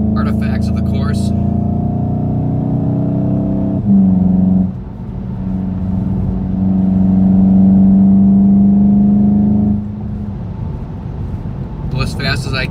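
A car pulls hard on a public-road recreation of the historic Elkhart Lake road course, its loud engine droning and rising in pitch, easing for a moment, then climbing again before it backs off. A voice talks briefly at the start and end.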